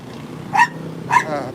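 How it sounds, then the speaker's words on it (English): Small dogs bark twice in quick succession, sharp yappy barks spaced about half a second apart, fairly close, over a quiet background hum. "We have a dog."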